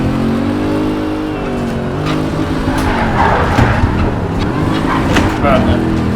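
Race car engine in Project Cars 3, a harmonic drone rising and falling with gear changes, with tire squeal during a spin and a voice talking over the steady, loud game sound.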